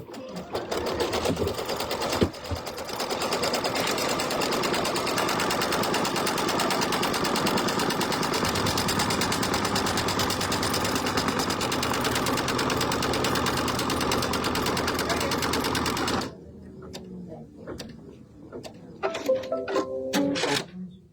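A computerized embroidery machine stitches out a placement stitch for background fabric, a rapid continuous mechanical rattle running steadily for about sixteen seconds before stopping, followed by quiet handling noises.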